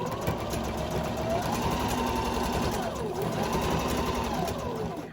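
A sewing machine stitches fabric for a crossbody bag with the presser foot fitted: a steady, close mechanical whirr that runs without pause.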